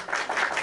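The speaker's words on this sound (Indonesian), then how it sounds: "Tepuk tangan untuk Tuhan." A short burst of clapping from an audience at an interfaith debate, close and fairly loud, with overlapping hand claps swelling in quick waves.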